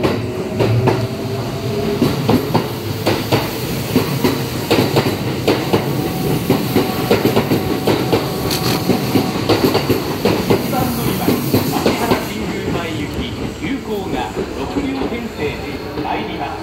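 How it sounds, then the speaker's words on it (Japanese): An out-of-service train departs from platform 1, rumbling and clattering past nearby, wheels clicking over rail joints, with a station announcement and voices under the steady noise. "1番乗り場から回送電車が発車します。"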